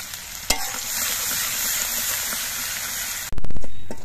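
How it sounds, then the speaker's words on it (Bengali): Crushed garlic and green chili dropped into hot oil already frying dried red chili and black cumin, giving a loud steady sizzle with a stir knock, then a fresh burst of crackling as the pan flares up. "এবার এর মধ্যে থেতো করা রসুন আর থেতো করা কাঁচা লঙ্কাটা দিয়ে দিচ্ছি"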